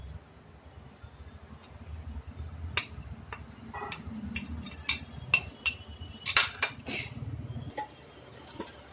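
A spoon mixes tutti frutti into eggless cake batter in a bowl, giving quiet scattered taps and clinks against the bowl that cluster more densely midway before fading.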